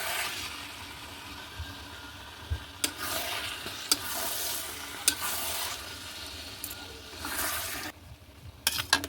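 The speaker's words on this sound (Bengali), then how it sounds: "কিছুক্ষণ কষাবো বন্ধুরা।" Spices with dried chili powder fry in a pan for chicken biryani, a soft sizzle under scraping stirs and light clinks from the spoon, fairly quiet throughout.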